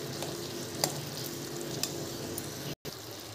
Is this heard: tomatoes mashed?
yes